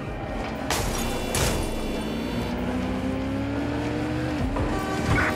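A car driving in the video game Watch Dogs Legion: a loud, continuous engine drone that rises in pitch as it accelerates, with brief tire squeals and bumps near the end.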